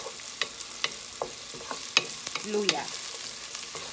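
Garlic and onion sauté in a pan with a soft, steady sizzle under repeated sharp clicks and scrapes of a spatula. A voice briefly speaks partway through.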